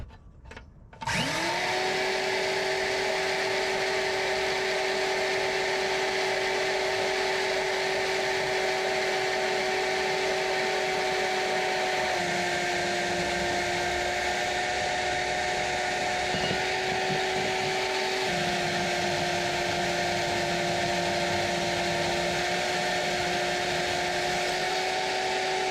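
A power tool whines loudly and steadily for about 25 seconds, cutting into a car's charge pipe during an H2B engine swap into a Honda CRX, its pitch dipping slightly midway with no talking.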